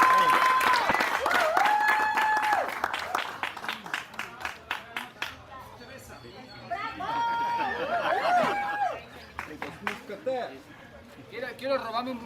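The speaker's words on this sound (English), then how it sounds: "So I want to give a big round of applause to" Audience at a fishing tournament awards ceremony on the Pearl Islands breaks into applause and cheering, loud at first, then fading as crowd chatter and further clapping bursts continue.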